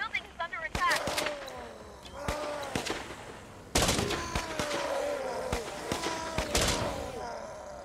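Gunfire against a zombie horde in the strategy game Infection Free Zone: sharp, fairly close shots cracking in irregular volleys over a stretch of several seconds, with ringing tails between them.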